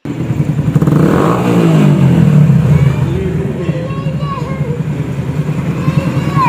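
A car engine revving loudly close by, the roar swelling and then easing off, with voices talking over it.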